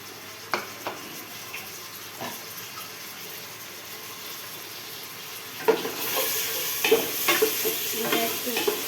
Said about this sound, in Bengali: এখন ভাজনা দিয়ে দিব পেঁয়াজের রেসটা দিয়ে দিব